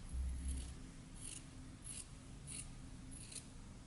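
Scissors snip through T-shirt sleeve fabric to cut fringe strips for a homemade mask, five short crisp cuts spaced about evenly over a low room hum, close and fairly quiet, with no talking.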